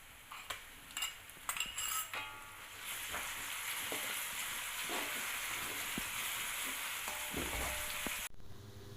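Onion and garlic sizzle steadily in hot oil, with scattered utensil clinks and stirring scrapes early on, then a continuous frying hiss that cuts off abruptly near the end.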